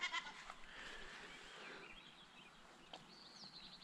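A faint, distant goat bleat drawn out over a quiet outdoor hush, with a few thin bird chirps afterward.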